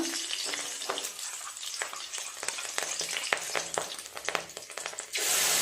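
Black cumin seeds and green chillies sizzle in hot oil in a pan, a close, crackling fry with sharp spits and pops, swelling into a louder, hissing burst near the end.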